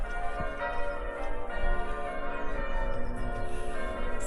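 Church bells rung by hand in a local bell tower, continuous overlapping metallic clangs with ringing overtones that sound steady and fairly loud.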